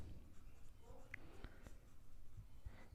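Pen writing by hand on paper while working through an integration problem from a class 12 maths textbook, a soft, faint scratching that runs continuously with a few small taps, close and quiet.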